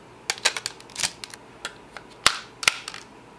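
A Kamen Rider G3 GM-01 toy pistol being assembled from body, barrel, scope and magazine, with a series of sharp, close plastic clicks and snaps in irregular bursts.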